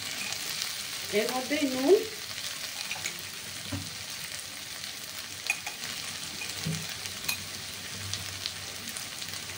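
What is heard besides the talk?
sautéing fish biryani masala in a pan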